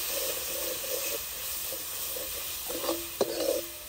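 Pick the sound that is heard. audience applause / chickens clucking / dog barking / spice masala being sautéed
spice masala being sautéed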